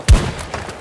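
A single sharp sniper rifle shot in Battlefield 2042, a close, punchy low boom at the start that fades quickly into a faint tail.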